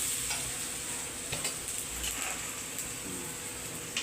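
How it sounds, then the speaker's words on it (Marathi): Tomato and masala frying in a pan, a steady close sizzle with stirring scrapes and a few light taps of a spoon throughout. "टोमॅटो पण चांगला परतून घ्यायचा."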